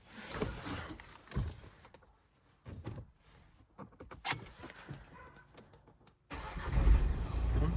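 The diesel engine of a 2015 Renault Grand Scenic follows some clicks and clunks from the car, then cranks and catches into a loud, steady idle that runs to the end.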